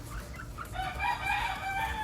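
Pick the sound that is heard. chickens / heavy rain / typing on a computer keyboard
chickens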